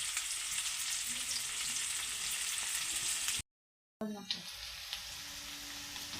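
Onions with mint frying in a pan make a close, steady sizzle, broken by a brief silent gap, then resume with a few stirring clanks.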